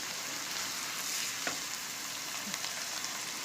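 Chicken fries in a karahi with ground cumin, dried coriander and salt, giving a soft, continuous sizzle. A few faint stirring clicks sound over the frying, with no one talking.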